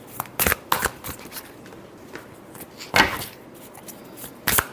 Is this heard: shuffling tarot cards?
yes